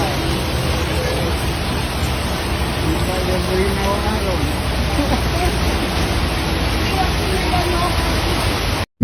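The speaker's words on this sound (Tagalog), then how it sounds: "Konting ulan lang, baha na kaagad." Heavy rain falls steadily in the Philippines, a dense even hiss across the whole stretch, with faint voices murmuring underneath.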